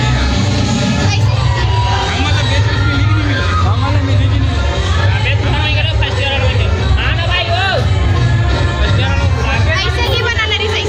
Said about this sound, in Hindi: देख सकते हैं करा कितना ज़्यादा भीड़ है